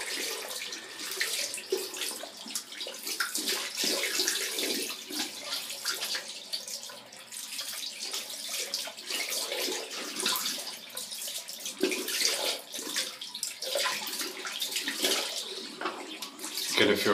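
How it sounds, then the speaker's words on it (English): Hot water runs from a bathroom tap to rinse a shaving brush, a steady splashing hiss that continues throughout with small variations as the brush moves under the stream. "Hot water and I'll rinse the pluck out while I'm waiting."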